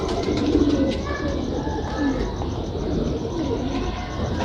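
Pigeon cooing murmurs softly beneath a busy loft backdrop, low rolling coos repeating through the stretch while other birds chirp faintly around it.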